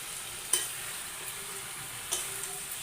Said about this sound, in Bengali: এবার আমি দিয়ে দেব মাংস